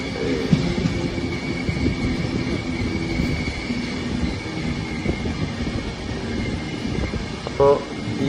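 A passenger train rolls along with a steady low rumble and rhythmic wheel clatter, with a brief squeal near the end.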